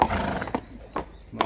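A tall, large horse whinnies at a horse showing, giving short repeated bursts at about half-second spacing over a steady background, fairly close and moderately loud.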